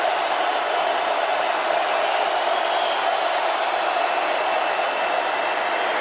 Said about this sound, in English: And it's hard in this crowd noise